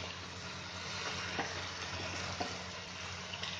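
Ivy gourd and moong bhaji being stirred in a pan over a medium gas flame, a soft steady sizzle with faint scraping taps, quiet and close, with no talking.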